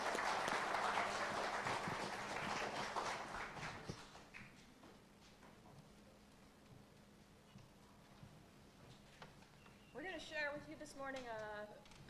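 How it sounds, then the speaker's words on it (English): An audience claps for a musical guest at a church service, a loud burst of applause that fades after a few seconds, followed by quieter room sound and a voice speaking. "let's give him a round of applause"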